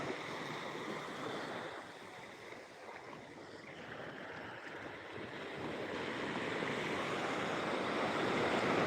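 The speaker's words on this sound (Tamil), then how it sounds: "குளச்சலை பக்கத்தில் உள்ள குறும்பன கடல்" Sea waves at Kurumbanai near Colachel make a continuous broadband wash of surf that swells louder toward the end, heard at a distance with some wind and no talk.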